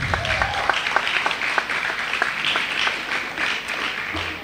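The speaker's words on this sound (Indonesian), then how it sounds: "Berikan tepukan." Scattered and rhythmic clapping from an audience at a school assembly, moderately loud and sustained throughout, with individual claps standing out.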